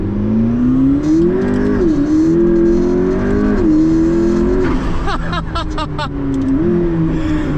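McLaren P1 hypercar on a public road, its engine droning loudly from inside the cabin, rising and falling with throttle, with a quick flurry of shift or exhaust crackles near the end and no speech.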